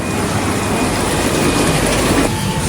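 A train rumbles loudly and continuously nearby at a railway station in China near the Mongolian border, a dense roar of wheels and machinery with a faint high whine running through it.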